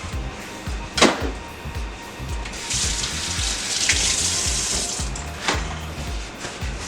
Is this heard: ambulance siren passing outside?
no